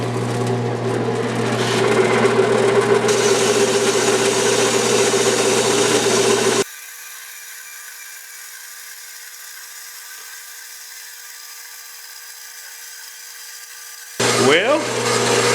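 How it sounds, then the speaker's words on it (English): A small bandsaw cuts through the bottom of a reclaimed-material wind chime, a loud, steady grinding buzz for several seconds that cuts out abruptly, leaving a quiet hum before the blade starts again. "I believe we can get by with the little bandsaw."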